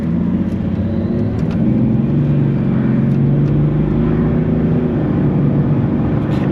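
BMW E60 530d M Sport diesel pulling hard under acceleration, a deep steady rumbling drone with rising engine tone, heard from inside the car, continuous and loud with no talk.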